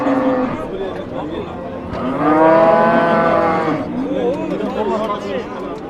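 A Swiss breed cow at a cattle market gives a long, loud moo near at hand, with voices chattering around it before and after.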